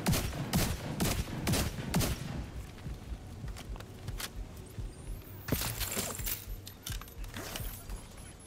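Rapid bursts of gunfire from the zombie shooter video game Contagion, dense volleys in the first two seconds then scattered single shots and clatter, loud and close with no talk over them.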